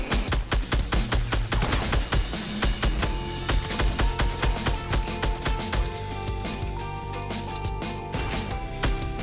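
Rapid bursts of gunfire from enemy players in the battle royale game Fortnite crackle in a dense, loud volley of repeated shots over the full span, with no talk.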